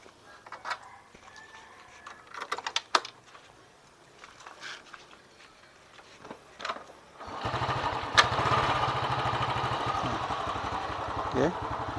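A Honda Grand motorcycle engine being checked during a charging-system conversion: quiet tinkering and clicks first, then the engine starts and keeps running with a steady, close mid-pitched idle putter.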